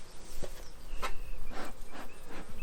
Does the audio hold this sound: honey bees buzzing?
yes